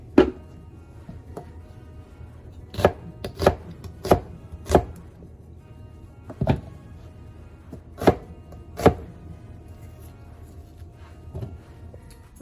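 A knife chops through food on a cutting board as slices are prepared for packing into jars. About ten crisp, separate thuds fall at an irregular pace, loud and close, with quiet gaps between them.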